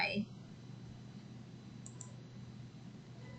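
A computer mouse clicks twice in quick succession while a WooCommerce product gallery is being edited. The clicks are faint and brief over a low, steady room hum.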